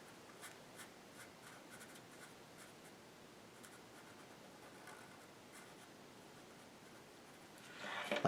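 Pencil on paper scratches softly and faintly in short strokes while a fairy's eye is drawn, the quiet scraping continuing over a hushed background and ending with a louder rustle.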